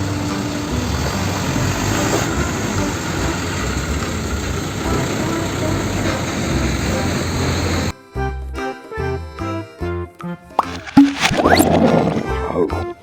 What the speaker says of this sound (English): Tanker truck.